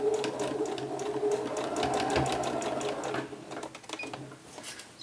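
A sewing machine runs steadily while stitching the sleeves of a cotton-style peasant top, a close, continuous mechanical whir with a rapid needle rhythm that slows and stutters near the end.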